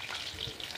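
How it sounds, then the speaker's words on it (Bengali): Fish frying in a pan, a steady dense sizzle that holds at an even level for under a second, close by with no voices. "আর মাছগুলো আমার ভাজা হয়ে গেছে"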